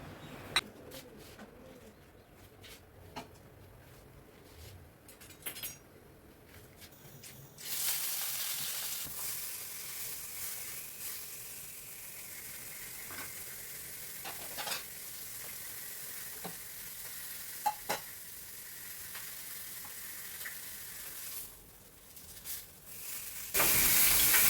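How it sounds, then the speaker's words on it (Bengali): Fish frying in a pan gives a loud, steady sizzle that grows stronger partway through, with clinks and stirring on top and no talk. "আগে মাছ ভাজাটা করব,"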